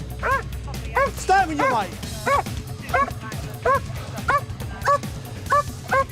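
A police dog barks repeatedly, about a dozen sharp, evenly spaced barks close by, while someone talks over them.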